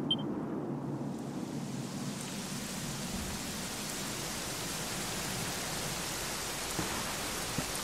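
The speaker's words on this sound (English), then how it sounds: "it was raining like this the last time I ever saw her" Steady rain in the video game Dragon Quest XI, a dense even hiss of downpour that holds constant throughout, with a soft low rumble underneath and no voices.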